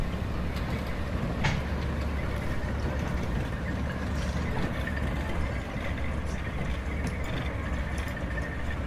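An old historic railway train rumbles past near Walhalla, a continuous low mechanical drone with faint squeals and clanks over it, held steady throughout.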